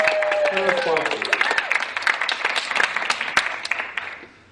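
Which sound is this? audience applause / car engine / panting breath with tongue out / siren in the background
audience applause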